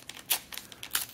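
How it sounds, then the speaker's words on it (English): Paper wrapping of a trading card booster pack tears and crinkles in a few quick, close, sharp rips, with small rustles between them. "listen to that paper rip noise"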